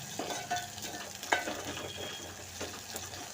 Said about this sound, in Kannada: ಚೆನ್ನಾಗಿ ಫ್ರೈ ಆಯ್ತಾ ಇದೆ